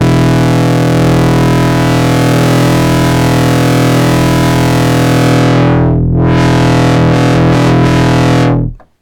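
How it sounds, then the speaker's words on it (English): A Moog Sub 37 bass synth with its output fed back into the input pushes heavy distortion and drive, a loud sustained buzzing tone whose filter sweeps down and back up before it cuts off abruptly. "loads more distortion and drive there should you need it"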